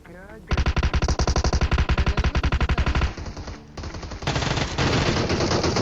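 Loud automatic gunfire in the video game PUBG, a rapid sustained burst of shots for a few seconds, then a pause and further bursts mixed with game noise.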